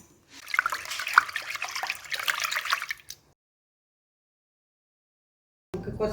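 Vegetables dropped into a basin of water in a home kitchen, giving about three seconds of close splashing, dripping and trickling, then silence before a brief final rustle.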